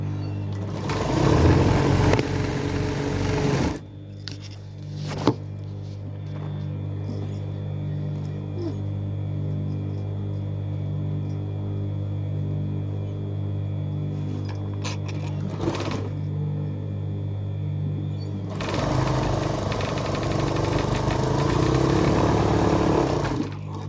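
A sewing machine stitches sleeves at close range: a steady motor hum runs throughout, with louder, rattling bursts of stitching at the start and again near the end.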